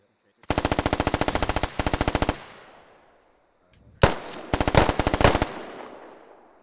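Gunfire in the tactical shooter Squad Ops, loud close bursts of rapid automatic fire with crisp repeating shots, a pause with echoing decay, then a single heavy shot followed by more fast bursts.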